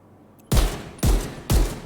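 Three loud, sharp rifle shots ring out about half a second apart in the video game The Division 2, each with a booming low tail.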